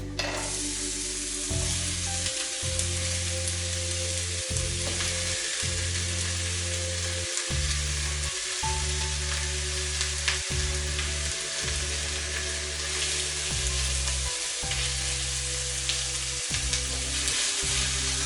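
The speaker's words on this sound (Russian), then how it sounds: "В разогретую сковороду добавляю небольшое количество растительного масла. Я использую подсолнечное, лук." Onion frying in sunflower oil in a hot pan, a steady, loud, close sizzle running throughout with periodic dips as it is stirred, no voices.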